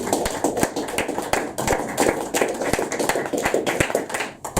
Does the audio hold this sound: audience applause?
yes